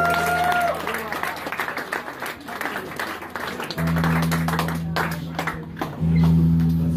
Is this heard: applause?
yes